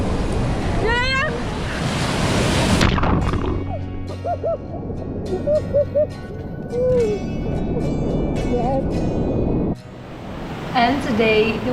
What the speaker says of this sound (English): And today the waves were even more intense than they were the days before.